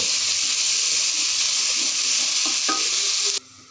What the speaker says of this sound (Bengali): চাউলটা এখন আমি ভালো করে ভেজে নেব।